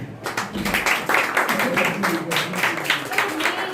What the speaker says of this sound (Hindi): एक बार जोरदार तालियां हो जाएंगे।